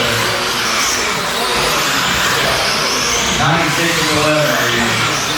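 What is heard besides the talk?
race car engines at indoor dirt oval race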